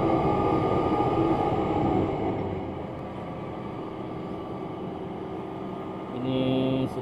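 The KA Batara Kresna train rolls into the small Sukoharjo station, a steady rumble heard from onboard that eases as it slows, with a brief rise in noise near the end.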